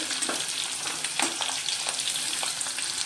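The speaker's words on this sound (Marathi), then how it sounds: "आणि मिरची टाकूया हे चांगलं तेलामध्ये" Green chilies fry in hot oil for a fenugreek bhaji, making a steady, dense, close sizzle with a few brief stirring scrapes.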